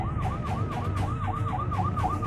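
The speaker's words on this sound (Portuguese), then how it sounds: "a ambulância está passando." An ambulance siren wails in a rapid repeating yelp above the rumble of a traffic jam in Grozny, close and steady.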